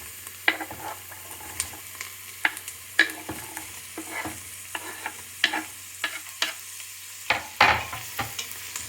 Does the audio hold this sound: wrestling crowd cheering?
no